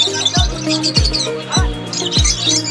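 Pet birds at the Sherampore pet market, including lovebirds and cockatiels, chirp and tweet steadily and fairly close, with a repeating low thump about once a second running underneath.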